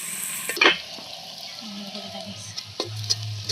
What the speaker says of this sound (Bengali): এইভাবে পেঁয়াজটা লাল করে নিলাম।